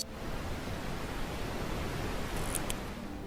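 Steady broadband pink noise used as a sleep sound, a smooth even hiss like soft rain or rustling leaves, constant and unbroken throughout with a faint brief high tick near the end.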